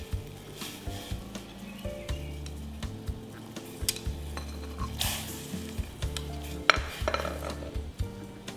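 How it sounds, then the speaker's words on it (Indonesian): Beef oxtail goes into a pot of boiling water for Indonesian oxtail soup, with bubbling, clinks of metal utensils against the pot and stirring noises in a kitchen. "di sini ada air mendidih, langsung saja kita masukin buntutnya"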